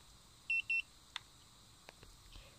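Two short high-pitched electronic beeps in quick succession from a Mata2 tire pressure sensor monitor, followed by a few faint clicks against a quiet background.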